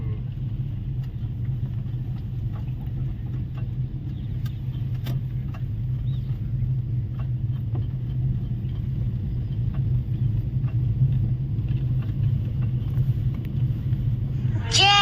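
A car being driven during a driving lesson, its engine a constant low rumble with no letup, heard under spoken instructions.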